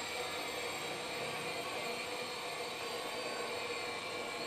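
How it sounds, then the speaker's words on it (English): Motors on a Pixhawk-controlled drone spin steadily while it sits armed, giving a constant, even whirring rush with no change in pitch and no voices. "we need to stop spinning these motors when it is armed"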